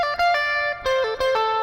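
An electric lead guitar plays a song's intro phrase twice in a row, a string of picked, sustained notes with distinct attacks, close and clean with nobody speaking.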